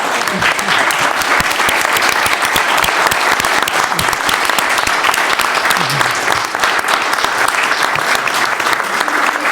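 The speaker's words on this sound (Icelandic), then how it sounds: "Klappa fyrir þáttakendum." Loud, dense applause from the audience at an election debate on foreign and defence policy, filling the whole stretch with continuous clapping and no break.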